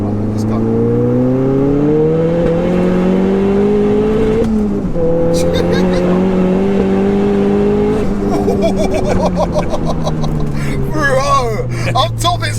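A 507bhp 2.3-litre Ford Fiesta pulling hard in third gear, its engine note climbing steadily and loudly from inside the car, dipping briefly at a shift-like break before rising again.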